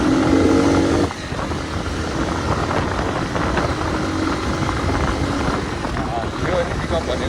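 A Hartford VR motorcycle in fresh condition rides along a road in Pokhara, its steady engine drone and wind rush continuous and close throughout.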